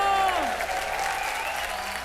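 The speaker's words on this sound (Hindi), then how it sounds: "जोरदार तालियों से इनका स्वागत कीजिए।" Studio audience applause on the Hindi comedy game show Kaun Banega Arabpati, loud and dense throughout, with cheering tones and a few voices rising over the clapping.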